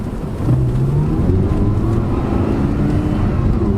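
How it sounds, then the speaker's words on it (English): Audi R8 with a Lamborghini-derived V10 engine, fitted with carbon ceramic brakes, revving and whirring up steadily in a loud, continuous drone that jumps in level after a short opening. "can hear the V10 whirring up, which is a Lamborghini engine"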